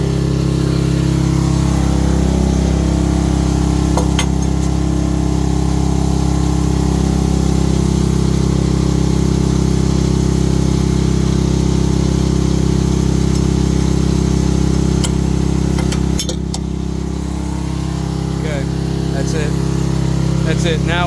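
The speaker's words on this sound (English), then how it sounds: "Now we'll turn the idle down and then shut it off." A diesel engine idles steadily on an Eagle Beaver hydraulic folding neck trailer (81,120 lb GVWR), a loud continuous low drone that dips slightly near the end, with people talking over it.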